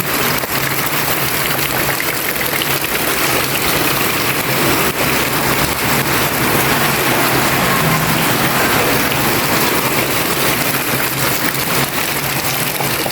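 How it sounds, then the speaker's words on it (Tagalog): Heavy rain pours continuously, a dense loud hiss of drops striking surfaces nearby, with a faint low rumble underneath. "Hanggang ngayon, hindi pa tumitigil yung ulan."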